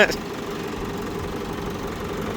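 A tractor engine idles steadily with a low, continuous rumble and faint knocking throughout.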